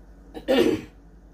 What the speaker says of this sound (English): when you hear me clearing my throat, that's what's going on.